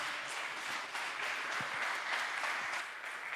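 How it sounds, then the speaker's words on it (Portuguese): Applause from a church congregation during a worship service, a steady dense wash of many hands clapping together, loud and continuous with no talk over it. "E as palmas que louvam ao Senhor."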